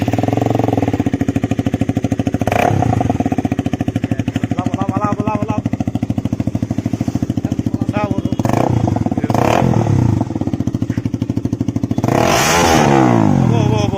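A KTM Duke motorcycle runs with its exhaust removed, a loud, raw, rapid-firing engine clatter with several sharp throttle blips and revs, and voices talking over it at moments.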